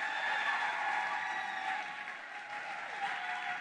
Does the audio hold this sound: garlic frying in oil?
no